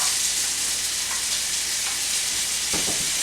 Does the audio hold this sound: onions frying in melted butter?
yes